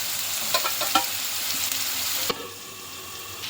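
Onions fry in oil in a pan with a steady close sizzle, broken by several quick scraping stirs early on, then the sizzle drops to a softer, even hiss.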